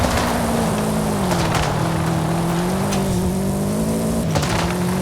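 Subaru Impreza WRX STI, four-wheel drive, sliding through a corner, a loud sustained engine drone that rises and dips with throttle, with tire noise and brief bursts, close and continuous without talk.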